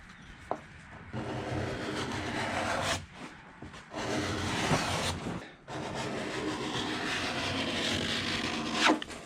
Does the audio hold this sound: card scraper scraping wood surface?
yes